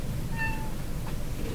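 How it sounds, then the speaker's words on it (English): A cat gives a single short meow in a workshop with a tube tester, a brief tonal cry standing out over a steady low background hum. "There's a cat crawling up my pants here."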